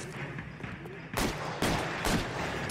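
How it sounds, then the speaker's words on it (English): Three sharp gunshots ring out at roughly half-second intervals from a fleeing suspect in the video game L.A. Noire, each a loud, close crack over a low ambient game backdrop. "Whoa, he's shooting."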